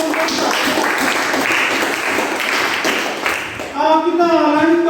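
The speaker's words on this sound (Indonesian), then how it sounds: "kita berikan tepuk tangan untuk kelompok" Classroom audience applauding a presenting student group, dense clapping for several seconds before a voice starts speaking near the end.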